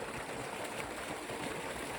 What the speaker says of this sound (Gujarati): પાણી આવી